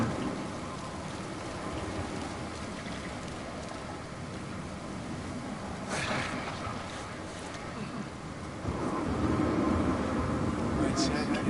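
Heavy rain falls in a stormy scene in the video game Uncharted 4, a constant broadband hiss with low wind or sea rumble beneath, growing louder and fuller in the last few seconds, while someone talks over it.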